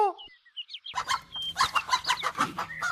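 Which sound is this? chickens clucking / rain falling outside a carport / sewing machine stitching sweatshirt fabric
chickens clucking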